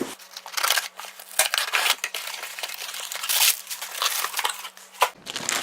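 An Amazon cardboard box being opened, then plastic bag packaging crinkled and rustled, with irregular close crackling bursts and rips, no talking.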